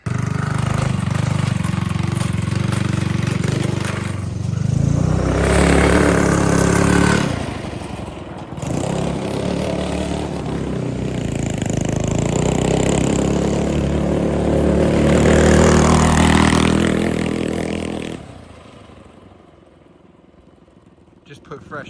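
A custom-built racing yard kart engine, freshly filled with oil, revs hard for a long stretch, a loud steady roar that swells and dips before cutting off near the end.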